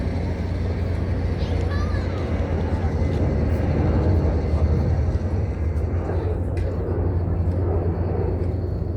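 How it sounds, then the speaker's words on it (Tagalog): A fixed-wing airplane passing overhead near the sea at sunset, a steady low drone throughout, with people talking over it. "Pang ilan na yan na eroplano?"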